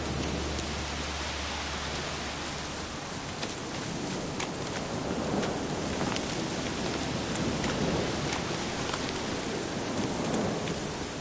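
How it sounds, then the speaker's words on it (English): Steady heavy rain pours in The Witcher 3 game world, a dense close hiss with a low thunder rumble fading at the start and scattered sharp drop ticks throughout. "Looks like rain."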